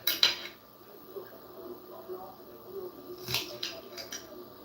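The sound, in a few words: knife cutting an onion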